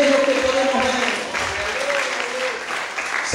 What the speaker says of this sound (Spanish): Denle un aplauso grande al Señor